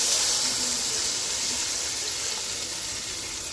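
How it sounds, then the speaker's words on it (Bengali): Water poured steadily into a cooking pan to make broth for a bottle gourd leaf curry with koi fish, a continuous close splashing gush lasting throughout. "এখন ঝোলের জন্য পানি দিয়ে দিচ্ছি।"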